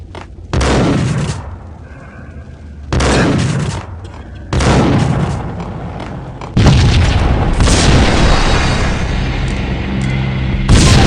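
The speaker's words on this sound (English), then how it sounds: "Another bomb exploded inside the closed." Explosions from bombs rigged throughout a building in the video game Max Payne: three heavy booms in sequence, each a loud broadband blast with a rumbling tail, followed by a long, sustained roaring explosion that fills the rest of the stretch.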